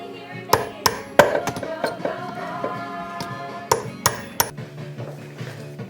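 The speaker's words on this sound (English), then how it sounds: "First step is to pound out this roll pin." A hammer pounds a roll pin out of a Tremec TKO600 five-speed transmission, striking in sharp metallic clanks: a quick cluster of blows, a pause, then a few more hits, close and with no talking.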